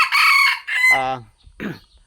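A hen crows loudly, then gives clucking calls up close, with short gaps between the sounds.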